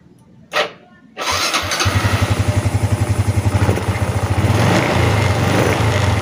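A Honda Revo Fit fuel-injected motorcycle engine cranks and catches after a short click, then settles into a steady, close, rhythmic putter at idle and revs slightly toward the end.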